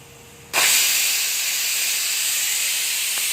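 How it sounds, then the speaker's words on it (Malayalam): After a brief quiet moment, a pressure cooker whistles, a loud, steady hiss of escaping steam that bursts out and continues without pause. "അപ്പോൾ ഒരു വിസിൽ വന്നിട്ടുണ്ട്"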